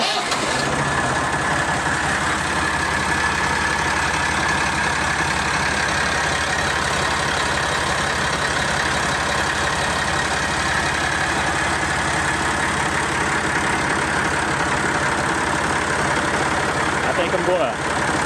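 Massey Ferguson 240 tractor engine running at idle, a steady, loud diesel rumble that carries unbroken for the whole stretch, with a person talking over it.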